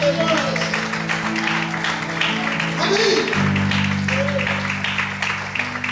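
A church congregation applauds during a Christmas sermon, steady clapping that runs under sustained music tones, with a voice calling out briefly.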